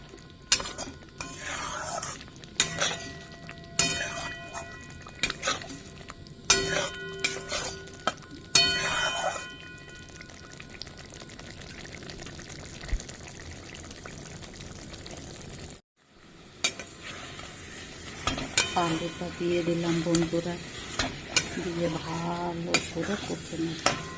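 Spice paste stirred and fried with low oil in a pan, repeated scraping and clanking of a spoon against metal over a soft continuous sizzle, close by, with a brief silent break midway.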